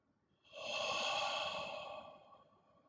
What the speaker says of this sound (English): And then take a deep breath in.